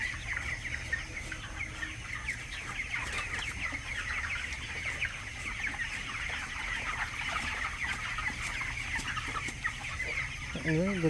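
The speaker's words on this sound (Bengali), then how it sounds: "মুরগি খাচ্ছে ভ্যাকসিনের পানিগুলো।" A flock of 24-day-old broiler chickens clucks steadily while drinking vaccine-dosed water on a poultry farm, a dense, continuous chorus of overlapping clucks at close range with no clear talk.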